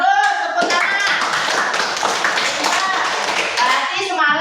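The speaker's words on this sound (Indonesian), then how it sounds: "Bagus, tepuk tangan" Classroom clapping by a group of schoolchildren, a brisk burst of applause under the children's chatter and voices.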